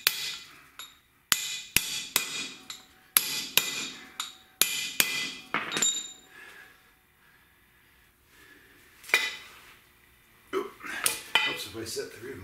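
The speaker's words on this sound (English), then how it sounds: "I'm going to tap a couple so it stays together while I pick it up." A hammer taps wheel studs into the 14-bolt rear axle hub of a 4x4 Pontiac Catalina during a rear disc brake conversion. Sharp, close metallic knocks come in a quick series, then a quieter pause and a few more clinks and taps.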